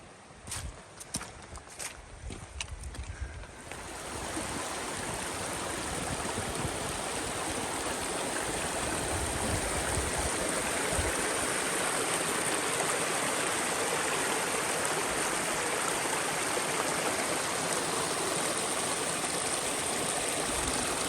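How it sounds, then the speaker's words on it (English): River rushing over rocks at a trail crossing in Shenandoah National Park in cold weather, a dense steady roar that swells after a few seconds of footsteps on stones and holds loud and close. "Roadrunner, river crossing"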